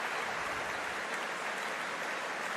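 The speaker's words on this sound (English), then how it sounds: "A warm round of applause from this big Coventry Stadium crowd here." A big stadium crowd at a Commonwealth Games rugby sevens match in Coventry Stadium applauds, a dense, even wash of distant clapping sustained throughout.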